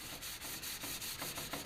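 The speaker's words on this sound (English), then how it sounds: "this is sanding out pretty easy because I didn't put this paint on real thick either" Sandpaper rubs thin interior paint off a plastic car interior part from a 1966 Ford Galaxie 500 convertible, with steady back-and-forth strokes in a quick, even rhythm, close and fairly soft.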